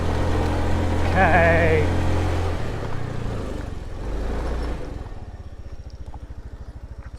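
A scooter engine drones loudly at full throttle on a jungle road near Tegalalang, Ubud, Bali. A voice speaks over the steady engine hum, which drops to a lower, pulsing idle near the end.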